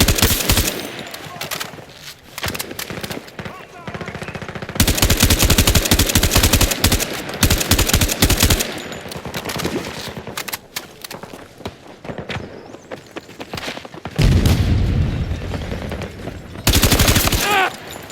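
Gunfire in Battlefield 2042 from an AK 5C and surrounding weapons: several loud bursts of rapid automatic fire, near and punchy, separated by shorter shots and quieter battlefield noise.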